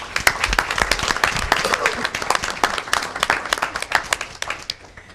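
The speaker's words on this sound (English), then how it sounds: "One more rousing applause for Harry Patton, who is the assistant dean at University High School." At a school board meeting, the room claps for a newly introduced staff member, a moderate patter of individual hand claps rising and falling steadily for several seconds.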